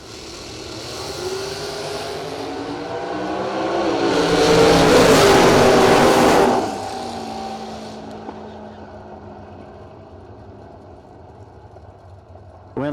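Drag race cars, a 1977 Vega and an 1981 Camaro, launch and roar past, the engine noise swelling to a loud peak before fading into a distant drone, with an announcer's voice faint underneath.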